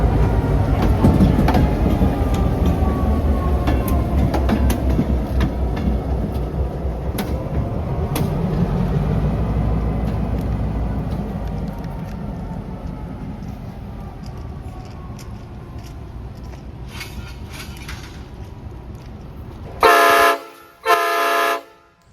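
A train rumbles and clatters steadily, fading gradually as it pulls away, then two loud horn blasts sound close together at the end.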